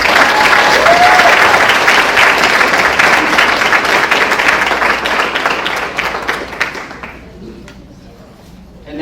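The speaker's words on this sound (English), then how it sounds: "So another round of applause." Loud, sustained audience applause at a 2017 AIC co-curricular awards ceremony, dense clapping from a crowd that gradually thins and fades out toward the end.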